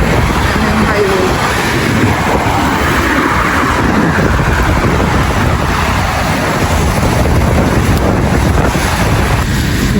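Highway traffic rushing past in a steady continuous roar, mixed with strong gusting wind buffeting the microphone; loud and close throughout, with no clear talk.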